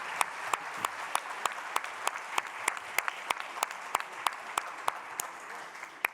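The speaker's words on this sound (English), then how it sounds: "Please join me in a round of applause to our speakers this morning" An audience at a morning users panel session applauds its speakers with steady clapping, the individual claps distinct and evenly spaced, carrying on at moderate volume for several seconds.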